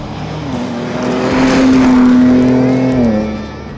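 A Ford Ranger Raptor's engine and exhaust, loud and close, rising to a strong, steady drone through the middle and then easing back down, with no talking.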